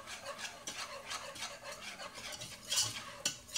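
A flour mixture is stirred in a pan, a roux cooking toward a darker color, with repeated rhythmic scraping and rubbing strokes of a utensil against the metal and occasional clinks, quiet and without speech.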